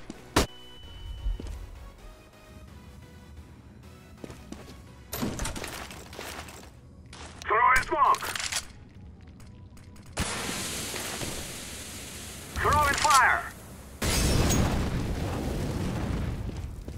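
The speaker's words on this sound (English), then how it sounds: "I'm throwing a flashbang." Flashbang grenades are thrown and go off in the game Counter-Strike, CS:GO on the Cache map, as several sharp bursts and rushing blasts spread across the stretch, with quieter clicks and footsteps between.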